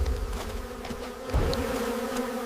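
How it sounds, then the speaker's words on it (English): Angry bees defend their hive with a steady, close, droning buzz that swells slightly midway, the swarm humming continuously without pause. "the angry bees defend their home"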